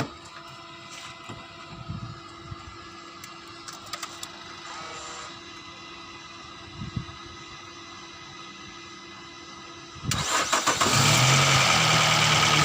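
A car engine, jump-started from a Jump Starter T700 power bank with compressor, cranks briefly and catches on the first try after a few quiet clicks and handling noises, then settles into a loud steady running note.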